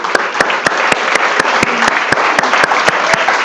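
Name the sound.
applause for the Lord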